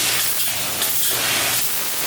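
A continuous hiss of spray blasted at a person named Eric for about two seconds, close and fairly steady.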